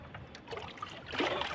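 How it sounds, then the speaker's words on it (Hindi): Water sloshes and trickles inside a full bucket as it is lifted for watering garden plants, a soft close splashing that swells near the end. "ये भर ली बाल्टी, इसको उठा लेते हैं"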